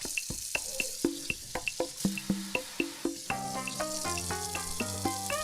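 Dishes being washed under running water, with a rapid series of clinks and knocks from plates and utensils over a steady background of water, growing busier toward the end.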